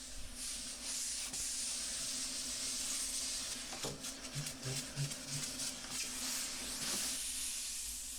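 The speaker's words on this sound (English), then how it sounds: "First I'm going to vacuum up the dust." Shop vacuum sucking up sanding dust from a guitar body, a steady broad hiss and roar running the whole time, with faint knocks and rattles as the nozzle moves.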